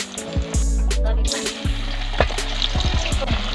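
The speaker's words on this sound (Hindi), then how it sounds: "जो तेल से उबाल रहे हैं" Pieces of jimikand (elephant foot yam) fry in hot oil, giving a continuous close sizzle broken by clanks and scraping of a utensil.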